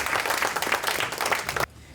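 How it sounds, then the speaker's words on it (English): Dense audience applause at a meeting on chaplaincy and palliative care, acknowledging the government, fills the room steadily at close range before cutting off abruptly near the end. "Please give our government a round of applause."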